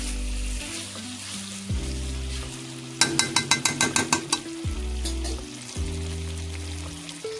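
Bengali aila fish curry being stirred in a pan, with a utensil scraping and sliding repeatedly over a steady sizzle and a quick burst of rapid metallic taps midway.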